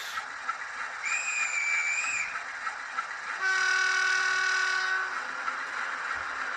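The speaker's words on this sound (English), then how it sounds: "F12 is guard's whistle on, and then off is the driver's response." A Graham Farish Class 47 model locomotive's DCC sound plays a short, clear guard's whistle, then the driver's sustained two-tone horn in reply, over a low running hum.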